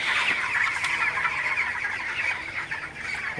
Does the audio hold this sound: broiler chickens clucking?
yes